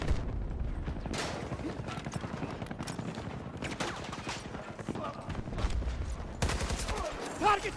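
Suppressed AK gunfire in Battlefield 6, a steady run of muffled rapid shots under a constant bed of battlefield noise, with a voice talking over it.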